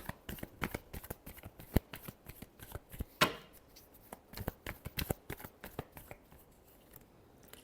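A tarot deck is shuffled by hand, producing quick, close riffling card flicks in a rapid uneven rhythm, with one louder flutter partway through, in an otherwise quiet room.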